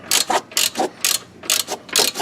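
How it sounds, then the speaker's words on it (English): A hand ratchet fitted with a Torx 40 bit drives in a rear brake caliper pin on a 2008 Mercedes-Benz CLS 550, giving several quick rasping clicking bursts in an uneven rhythm, close and fairly loud, with no talking. "I'm going to take my ratchet with a Torx 40 and just run that in"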